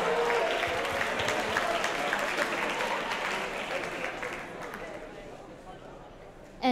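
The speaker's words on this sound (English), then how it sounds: "let's give Merrymouth Pig a big round of applause" An audience at the VOMG 2017 prize presentation gives a sustained round of applause for the winner Merrymouth Pig, a dense wash of clapping that slowly fades.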